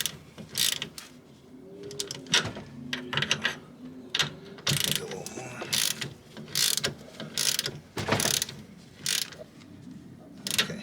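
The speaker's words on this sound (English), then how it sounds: "you want to take your 3/8 ratchet" A 3/8 ratchet clicks as it turns on the tie rod of a BMW E36 M3, giving close, uneven bursts of pawl clicking between pauses, with no talk.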